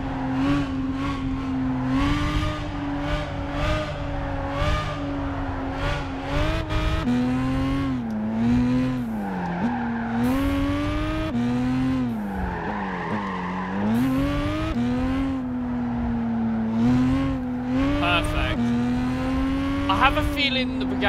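A Bugatti Veyron in Gran Turismo 5 roars through corners at very high speed, its engine drone rising and falling steadily with tire squeal on the bends, loud and continuous throughout.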